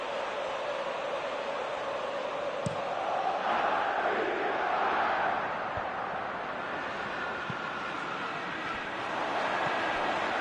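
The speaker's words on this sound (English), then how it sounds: "Well, the crowd clearly like what they just saw." A football video game crowd roars steadily for about ten seconds, a broad, sustained cheer swelling in the middle with a few sharp clicks, and no commentary over it.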